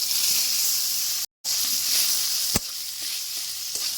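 Boiled potatoes go into a pan of fried garlic, chilli and turmeric in oil. A steady hissing sizzle drops out briefly, then returns, with one sharp knock of a utensil against the pan and a few softer taps.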